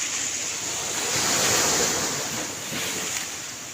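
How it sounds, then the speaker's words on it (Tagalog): Sea waves at high tide by an island, a close, continuous surf roar that swells and eases, with wind buffeting the microphone and no talking. "High tide po ngayon."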